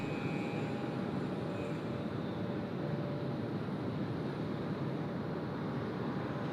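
Steady broadband roar of aircraft engines at Sydney Airport as the JD aircraft pushes back, a continuous distant drone with a faint whine and no talk.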